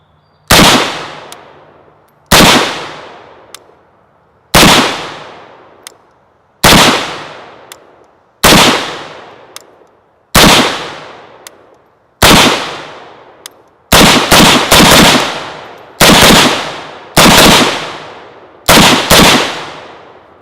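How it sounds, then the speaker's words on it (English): Shots from an AK-pattern rifle, a short-barreled VEPR AK-47 or M92 PAP, fired outdoors: loud, sharp reports with ringing decay, first evenly spaced single shots, then quicker doubles and rapid bursts toward the end. "So let's take a few shots, see how it feels."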